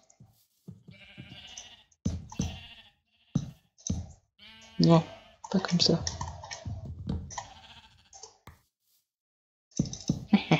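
Sheep bleat in a Minecraft survival game, a couple of short wavering calls mixed among mouse clicks while someone speaks French over most of it.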